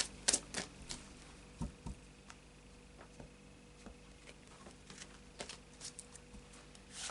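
Oracle cards are shuffled softly, with quiet riffling taps and flicks scattered irregularly over a hushed background.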